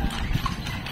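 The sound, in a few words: horse hooves clip-clopping on street, horse-drawn carriage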